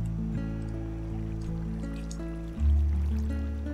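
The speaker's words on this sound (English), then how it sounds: "I've just built a water wheel." A water wheel in the video game Minecraft with running water, heard as a steady, continuous stream-like flow under a low, sustained droning tone.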